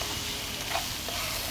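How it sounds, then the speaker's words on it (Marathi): Tomatoes sautéing in hot oil in a pan for misal, giving a steady, close sizzle with light stirring and no talk. "आपल्याला 5 मिनटं परतून घ्यायचं आहे। आपलं हे टोमॅटो मऊ झाले की मग आपलं परतून झाले समजा"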